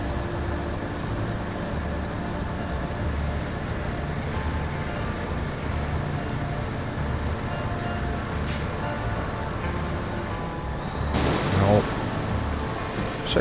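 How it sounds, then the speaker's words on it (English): Steady rushing of river rapids in the off-road truck game Snowrunner on the Sliprock Peaks map, a broad continuous wash of water noise at moderate level with a low engine rumble beneath and a brief louder surge near the end. "That's the sound of the rapids"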